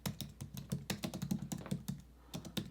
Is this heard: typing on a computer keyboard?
yes